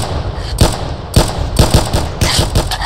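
Rapid gunfire from a gun called Mobile in a Roblox 1v1 match: loud, close shots in quick irregular bursts filling the clip without pause.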